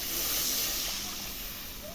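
Water poured into a hot pan of frying potatoes and spices for a Bengali sarpunti fish curry, giving a loud, steady sizzling hiss that slowly fades as it settles.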